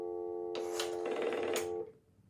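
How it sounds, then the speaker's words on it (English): A Western Electric 233 payphone gives a steady dial tone close to the handset after the second nickel, briefly overlaid by mechanical clicks and rattling before it cuts off. "we get a dial tone."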